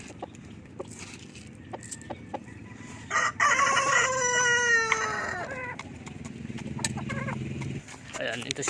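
A Rhode Island Red rooster crows loudly and close by in one long call, with clucking chickens around it and a person talking nearby.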